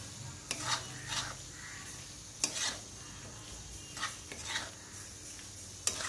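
Fried potatoes being stir-fried in spice paste in a pan for mutton curry: soft sizzling under irregular scrapes and knocks of a spoon against the pan, close and fairly quiet, with no voices.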